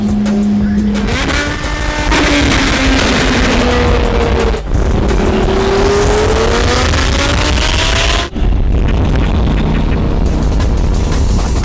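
A powerful sports car engine revs hard and loud on a road drive, its pitch climbing through long pulls with brief dips between gear changes, close and roaring throughout.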